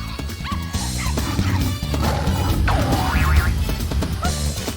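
Dogs bark and yip in quick bursts over music and comic sound effects, with a whimper mixed in among the busy noise.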